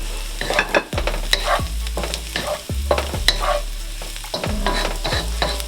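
Radish cake and mushroom are stir-fried in a pan: loud, repeated spatula scrapes and knocks in an uneven rhythm over a constant close sizzle.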